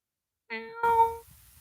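A person vocally imitates an ordinary cat's meow, giving two drawn-out, close, clear meow calls in quick succession with no other talk.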